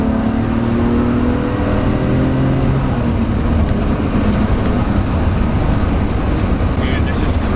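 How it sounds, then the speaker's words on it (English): A Nissan Skyline R33 GTR V Spec pulls hard in third gear, the engine note climbing steadily in pitch under heavy road and wind noise inside the cabin, loud and sustained. "Gonna give it a little gas now. Rolling on it in 3rd gear."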